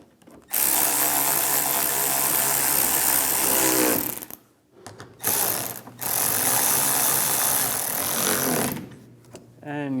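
A ratchet tool tightens the two headlight screws on a 2015-2019 Lincoln MKC, giving close, loud bursts of rapid clicking with brief pauses between strokes.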